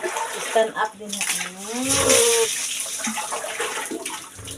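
Water running and splashing during bathing at home, a steady rushing wash under excited talking voices, swelling louder midway.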